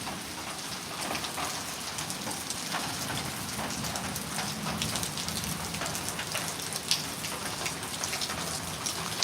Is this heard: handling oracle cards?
no